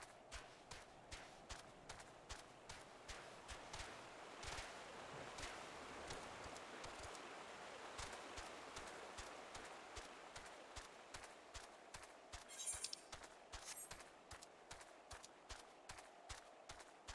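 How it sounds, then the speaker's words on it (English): Horse hooves in the Final Fantasy XIV video game, a quiet, steady rhythmic clip-clop of a trotting mount over a soft ambient wash, with no talking. "Ooh, lightning horse. Thunder horse."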